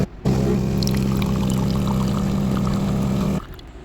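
A Philips EP3246 espresso machine pumps water through its coffee spout, a loud, steady hum with pouring water that starts abruptly, holds for about three seconds and stops.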